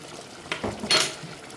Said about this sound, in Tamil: இப்போ இந்த சமயம் நம்ம தண்ணி சேர்க்கலாம்